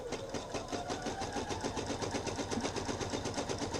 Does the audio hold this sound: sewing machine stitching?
yes